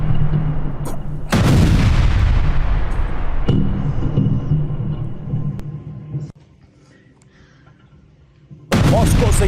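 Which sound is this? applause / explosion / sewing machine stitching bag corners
explosion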